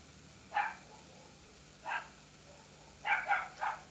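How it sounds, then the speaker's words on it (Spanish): Several dogs bark from a neighbouring house, heard from indoors at a distance: a single bark, another, then a quick cluster of three or four near the end, each short and moderately loud over a quiet room hum. "¿Molesta los ladridos de los perritos o no?"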